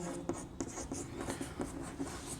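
Writing during a Class 11 mathematics lesson, with soft, close, rhythmic strokes and taps of a pen or chalk forming characters, quiet and steady.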